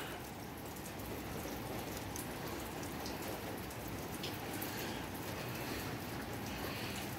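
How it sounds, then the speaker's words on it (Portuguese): Steady rain patters continuously on a surface in Curitiba, Brazil, a dense even hiss with scattered drops, fairly close and unbroken. "Água de chuva, não tem coisa melhor."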